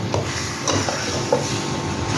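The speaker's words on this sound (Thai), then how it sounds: "คนให้เป็ดกับเครื่องแกงเข้ากันได้ดีนะครับ" A spoon scrapes and stirs through a thick duck curry in a pot over medium heat, with soft sizzling underneath and a few light knocks against the metal.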